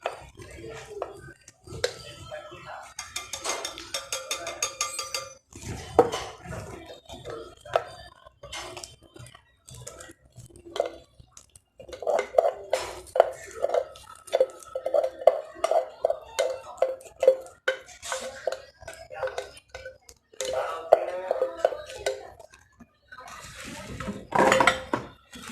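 Batter for a rum plum cake mixed in a bowl with a utensil, close scraping and clinking strokes in irregular bursts, with someone speaking at times between them.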